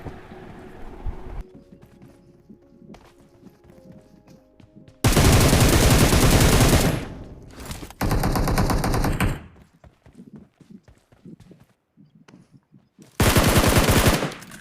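Automatic gunfire from the mobile battle royale game PUBG Mobile, in a Duo vs Squad match: several loud, dense bursts of machine-gun fire, with quieter, scattered shots and game sounds between them.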